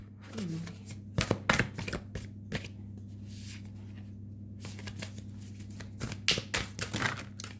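Cards being shuffled in several quick riffling bursts with pauses between, over a steady low hum and occasional soft talking.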